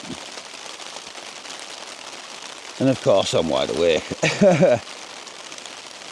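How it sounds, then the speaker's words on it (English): Steady pattering rain hisses continuously on a tent close by, and a person speaks briefly over it midway. "As you can hear, the rain has arrived."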